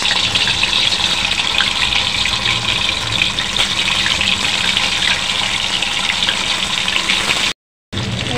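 Paneer fries in hot oil in a kadai over a lowered gas flame, a loud, steady, close hiss that holds for about seven seconds before cutting off abruptly, with no talking.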